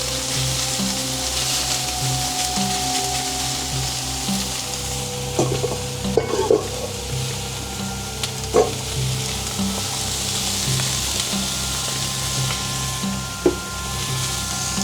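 Beef searing in a very hot frying pan, a loud continuous sizzle with a few sharp pops and scrapes of stirring, close and without speech.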